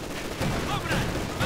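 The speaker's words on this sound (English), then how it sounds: "unleashing quite a few volleys there of heavy auto cannon fire" Heavy German autocannon fire in the strategy game Company of Heroes 2 rattles out in dense repeated volleys, loud and close, over a continuous battlefield din.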